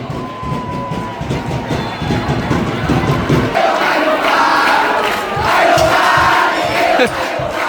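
A school football cheering squad at a final between Bangkok Christian College and Suankularb Wittayalai chants loudly in unison, a large crowd of voices swelling in rhythmic waves over a busy stadium background.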